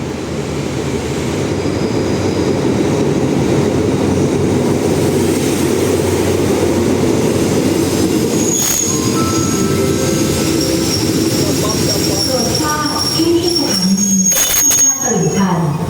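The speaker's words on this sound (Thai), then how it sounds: "มาแล้วรถน้ำตกมาแล้ว" Nam Tok train arriving at Taling Chan railway station in Thailand, a loud continuous rumble of rolling wagons with wheel squeal and brake screeches toward the end, and voices heard faintly.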